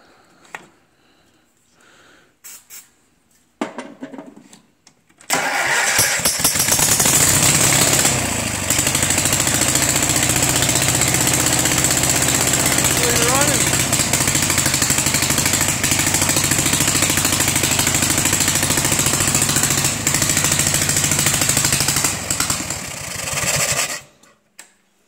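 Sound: rat rod car engine starting and running

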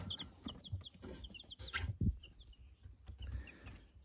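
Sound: chicks cheeping

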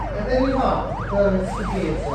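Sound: police car siren switched on, from Vaz Crash video game

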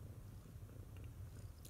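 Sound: cat purring

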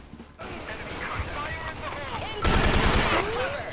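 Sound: K2 rifle gunfire in the video game Special Force 2

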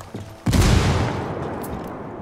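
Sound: frag grenade explosion in Ghost Recon Wildlands video game

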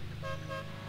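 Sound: car horn in video game Need for Speed Hot Pursuit 2

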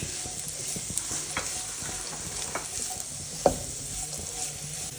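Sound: cabbage and carrot stir-frying in a pan for chicken noodles

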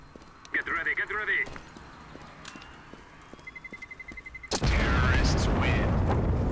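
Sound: bomb explosion in the video game CS:GO

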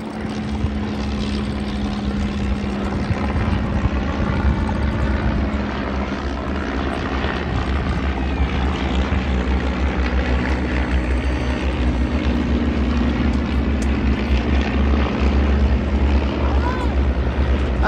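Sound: de Havilland Moth propeller aircraft flying past at air festival

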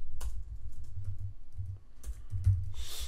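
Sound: typing code on a computer keyboard

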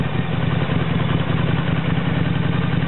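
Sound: 1997 Harley Davidson 1200 Sportster motorcycle engine

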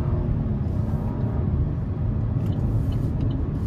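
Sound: Buick Encore GX CVT car driving after shifting to low gear

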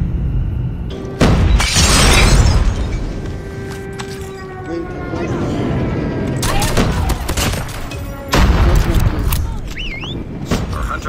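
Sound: friendly airstrike explosions in a video game

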